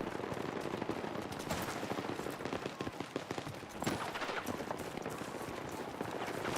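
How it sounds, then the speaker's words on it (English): Dense, rapid bursts of gunfire crackle nonstop with scattered louder blasts, a busy barrage of combat sounds from the video game Battlefield 6. "Especially with all the shooting explosions and everything. It can get quite loud."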